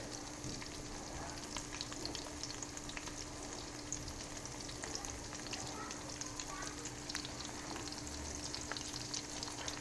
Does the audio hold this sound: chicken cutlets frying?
yes